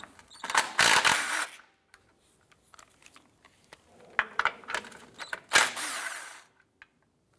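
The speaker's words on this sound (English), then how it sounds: "Using a deep 14mm socket, go ahead and remove the 2 nuts on the rear transmission mount." A ratchet fitted with a deep 14mm socket works loose the rear transmission mount nuts on a 2004-2008 Acura TL, giving bursts of close, quick clicking with short pauses between them and no talking.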